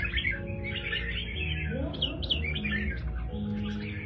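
Red-whiskered bulbul chirping after a bath, quick bright tweets and short warbling phrases repeated over a low background hum and faint voices.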